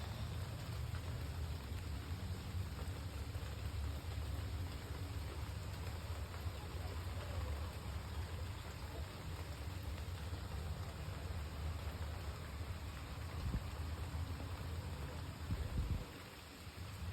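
Steady rain falls during a thunderstorm, a dense, even hiss of drops holding constant throughout, with a low rumble underneath and no voices.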